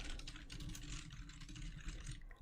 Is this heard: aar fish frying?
no